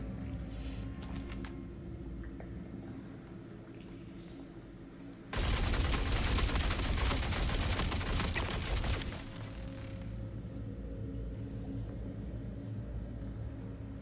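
Sustained burst of gunfire in the space game Star Citizen, loud and dense for about four seconds, standing out sharply from a quieter background hum.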